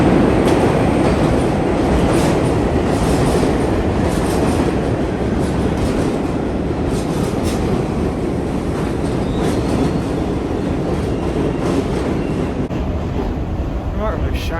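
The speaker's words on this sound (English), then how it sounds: "So we're gonna get the next 3 train to 14th Street, and here it comes." A New York City subway 3 train pulls into a station, a loud steady rumble of wheels and rail noise that fills the whole stretch with faint squeals near the end.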